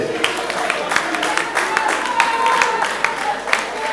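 Audience applause at the Tokanisa festival, fifth edition, a ragged spread of claps from a gathered crowd with chatter and a voice mixed in underneath, steady over several seconds.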